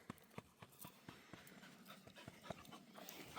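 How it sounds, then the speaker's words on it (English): A small dog pants quickly and steadily at close range outdoors on a morning walk, in short rhythmic breaths with some faint scuffing and no talking. "It's her loyal little Pearl dog"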